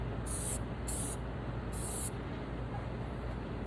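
Clear coat sprayed from a can in three short, close hissing bursts, the last one longer, followed by a quiet steady background hum.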